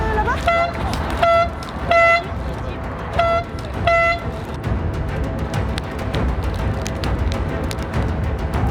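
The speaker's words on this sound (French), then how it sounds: "Et je vous laisse sonner la corne de brume." A foghorn sounded in repeated short blasts, four or five loud honks spaced about a second apart, over outdoor background noise and talking.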